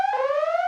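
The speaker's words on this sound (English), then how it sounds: "Alarm." A short electronic alarm tone rings out alone, a single loud steady beep with rich harmonics lasting under a second.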